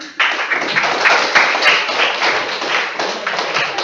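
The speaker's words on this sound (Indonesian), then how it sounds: "Nanti kita tepuk tangan" A school class gives a round of applause after a group presentation, a loud, close, continuous crackle of many hands clapping with no speech over it.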